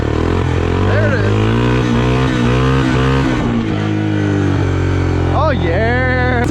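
A Big Red ATV engine climbs wide open in second gear, a loud, strained, continuous drone close by with a steady pitch that wavers and then rises sharply near the end as the revs climb.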